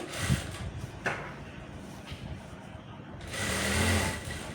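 A sewing machine stitches a dress pant in rapid mechanical bursts, fairly quiet and close, the whirring stopping and restarting, with a voice speaking intermittently underneath.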